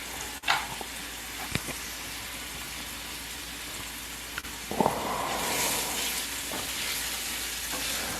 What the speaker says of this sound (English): Once again, we're gonna let this saute.